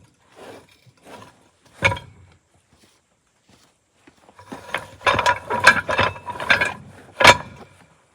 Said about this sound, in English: you're going to pay attention to the way this thing ratchets, the way your strap ratchets.